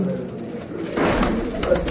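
Pigeons cooing close by, soft repeated low coos over a faint background hum, with no talking.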